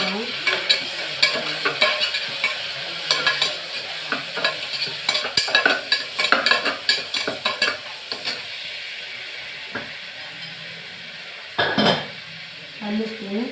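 Curry leaves fry and sizzle in a pan while a utensil stirs and scrapes against the metal in repeated bursts, close and clear, with a few louder clinks near the end as a Sunday lunch is cooked.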